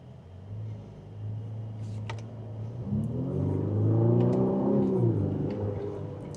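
A 2027 Infiniti QX65 Autograph accelerates in sport mode, its engine note swelling from a steady low drone into a louder, rising rumble that builds over several seconds from inside the cabin.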